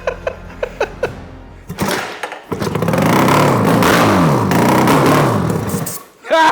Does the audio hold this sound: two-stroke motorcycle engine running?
yes